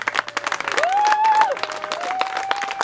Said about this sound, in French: levez-vous et un tonnerre d'applaudissements pour les lauréats de l'école de Belleroux